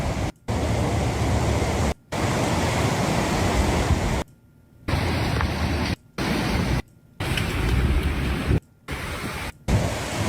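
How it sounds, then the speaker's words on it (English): Floodwater rushes in a dense, continuous roar, loud and close, cut by several abrupt gaps of near-silence between bursts. "That's a lot of water."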